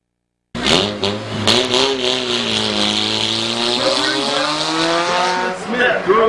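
Race cars at Midvale Speedway roar away at the start of a reverse race, engines rising in pitch as they accelerate together, loud and sustained, with an announcer's voice heard over the noise.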